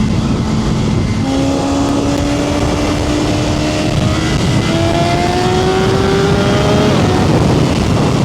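A 2025 BMW S1000RR motorcycle is ridden on the road, its engine droning loudly and continuously with rising tones as it accelerates through gears, wrapped in heavy wind noise.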